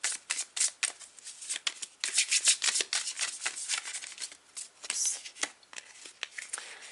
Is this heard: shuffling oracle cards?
yes